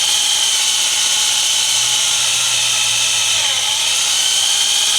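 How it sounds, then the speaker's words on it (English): A hand drill grinds continuously and loudly into thick locomotive steel, a steady high whine with a low motor hum that shifts slightly partway through. "You don't normally do this with hand drills."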